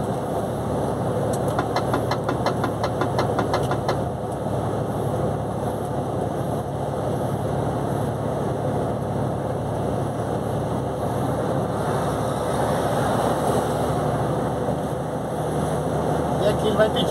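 A heavy truck engine drones steadily in ninth gear while climbing the Serra do Cafezal mountain road, a constant low rumble throughout, with someone talking over it.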